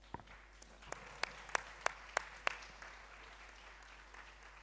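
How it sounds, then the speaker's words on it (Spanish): Thin applause from the audience at a talk held at a campus event, about eight separate claps in an uneven run over a couple of seconds, faint and somewhat distant, then fading to quiet room noise. "Un aplauso."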